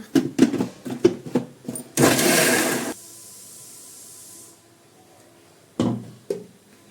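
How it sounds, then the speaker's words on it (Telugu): Mixer grinder blending peanut chutney with water, short loud whirring pulses followed by a one-second sustained grind that winds down, then two more brief bursts. "ఇవన్నీ వేసి బాగా మళ్ళీ గ్రైండ్ చేద్దాం"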